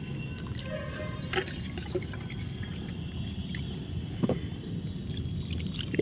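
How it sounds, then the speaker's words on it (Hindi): Water poured generously from a container into plant pots of soil during winter repotting at home, a steady wet splashing and trickling wash that runs continuously, fairly close, with a few brighter splashes. "तो अच्छे से पानी दे देना इस तरह से ताकि नीचे तक मिट्टी गीली हो जाए।"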